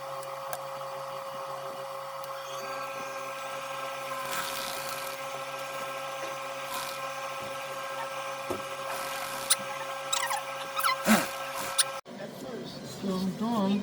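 A sewing machine stitches the side seams of a skirt, running as a steady buzzing whir with faint clicks and rustling fabric, interrupted by brief handling noises near the end.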